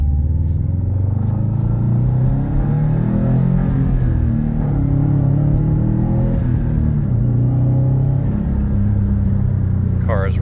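A 2018 Subaru WRX STI with a Perrin exhaust drones loud and steady from inside the cabin at cruising speed, a deep continuous engine rumble with slight swells in pitch.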